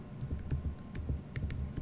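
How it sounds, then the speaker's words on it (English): Soft, rapid keystrokes on a computer keyboard patter irregularly over a low, muffled background hum, close and moderately quiet, with no talking. "I'm not typing that right at all."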